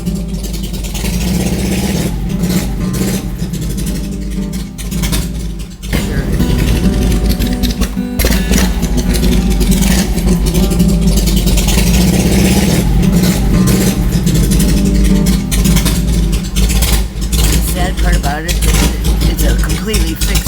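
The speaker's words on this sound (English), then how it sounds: "you can never record anything without motorcycles in the background" Motorcycle engines rumble low and continuous in the background, steady and fairly loud across the whole stretch, with someone talking over them throughout.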